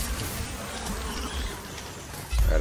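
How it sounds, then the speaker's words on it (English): Dense, constant insect buzzing from bees in the video game Dauntless, loud and continuous with a low rumble swelling at the end. "Oh, these stupid bees."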